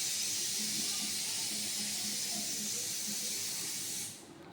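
Oil heats in a pan and gives a loud, steady hiss close by that fades sharply near the end.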